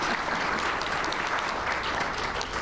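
Audience applauding an artist at a career center ribbon cutting, a dense, even burst of clapping filling the short stretch without pause.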